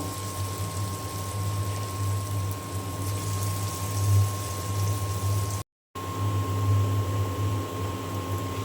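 Banana fritters made with red sugar deep-frying in plenty of hot oil, giving a steady, continuous bubbling hiss with a low hum beneath it and one brief dropout.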